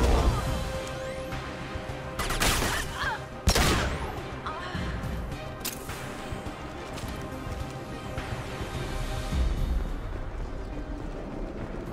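Sci-fi gunfire and crashing impacts in a Mass Effect 2 firefight, several sharp loud bursts early on, then a steady rumble of distant shots and debris, with some voices underneath.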